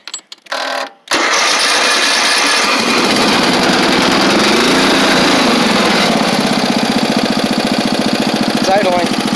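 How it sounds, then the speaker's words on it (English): A tractor engine idles loud and close just after a cold start, a steady rough chugging rumble with a knocking beat, following a brief cranking and sputter at the start. "It's idling."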